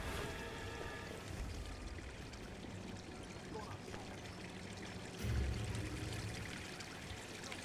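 Steady broadband water flowing and pouring in Hitman (2016), a continuous wash with a louder low burst near the end, and faint game ambience beneath.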